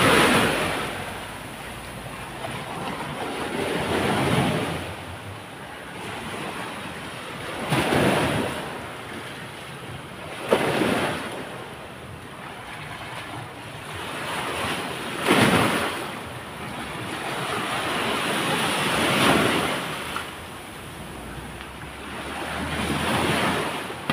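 Ocean surf rolling ashore in steady wind, with broad waves breaking roughly every four to five seconds over a constant hiss of water and buffeting wind noise on the microphone.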